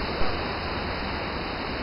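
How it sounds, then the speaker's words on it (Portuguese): Eubiose waterfall at São Thomé das Letras, a loud, steady broadband roar of rushing water close by with no break. "O barulho da água já está bem presente."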